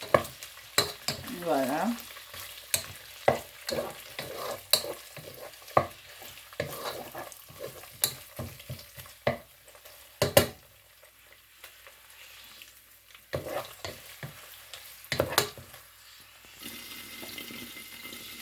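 Smoked mackerel in a frying pan for rice, a faint sizzle under repeated sharp scrapes and clinks of stirring at irregular intervals, with a brief spoken word.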